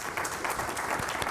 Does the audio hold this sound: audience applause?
yes